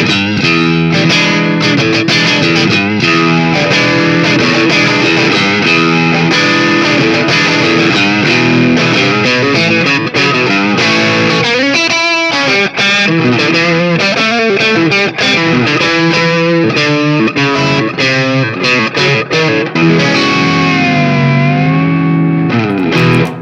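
Electric guitar played through two Ovaltone-modified Tube Screamer overdrive pedals chained silver then gold, giving a loud, continuous, thick distorted tone with sustained chords and riffs throughout, no talking.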